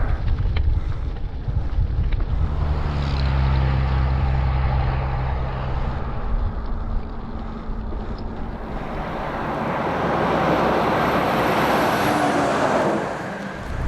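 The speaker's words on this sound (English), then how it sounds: "Wind's here" Strong, gusty wind roars across the microphone at a mountain summit during a bicycle tour through Utah's Zion National Park, loud and buffeting, swelling and easing with no talk.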